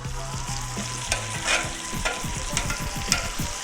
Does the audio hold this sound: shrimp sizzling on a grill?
yes